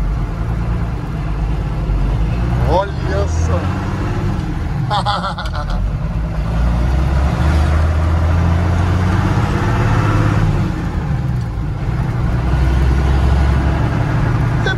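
A Ford F700 truck converted into a pickup rumbles steadily while driving, its deep engine drone continuous and close throughout, with people talking over it inside the cab.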